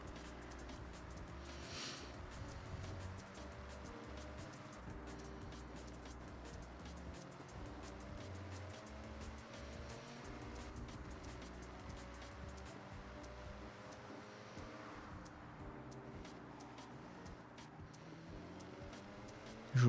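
Car engines and tyre noise in the racing game Forza Horizon 6 hum in a sustained, quiet drone, with the engine pitch rising and falling as the car drives and a steady road rush underneath.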